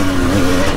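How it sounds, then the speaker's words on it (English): An enduro motorcycle on a muddy trail, engine droning loud and close in a short steady burst as the rider brakes hard. "Slammed on the brakes a bit."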